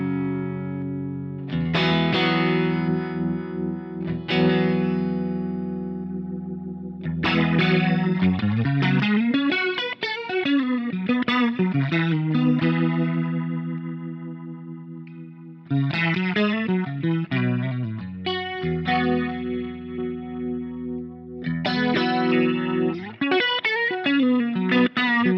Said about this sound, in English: The Leslie sounds really, really good.